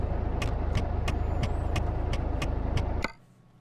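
A truck in American Truck Simulator rumbles steadily as it pulls over, with an evenly paced ticking over the engine drone, before the sound cuts off abruptly into near silence.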